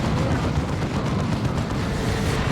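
A Kommando's rocket launcher firing in the Warhammer 40,000: Dawn of War 2 strategy game, heard amid a dense, continuous rumble of battle explosions and booms, loud and unbroken, with no speech.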